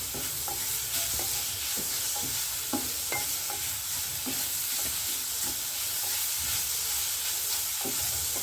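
Grated carrot sautés in ghee with a soft, continuous sizzle and hiss, broken by regular scraping strokes of a spoon stirring the pan.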